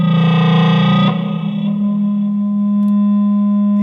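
Sustained high-gain electric guitar feedback from a hollow body guitar, unplayed: a loud, distorted droning tone with rich harmonics that shifts pitch about a second in and then rings on steadily.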